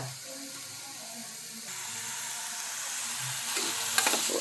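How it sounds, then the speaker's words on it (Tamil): Onions for hotel-style chana masala sizzle and fry in a pan, stirred now and then. A steady, close hiss continues, with a few scraping stirs near the end and no speech. "ரெண்டு வெங்காயம் எடுத்துட்டு மெதுவானல்ல வெங்காயத்தை நம்ம வறுத்து எடுத்துக்கலாம் வதக்கி எடுத்துக்கலாம்"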